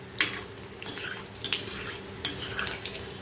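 Mackerel fish fingers fry in hot oil, a soft crackle and sizzle under clinks of a spoon or spatula against the pan, close up with no talking.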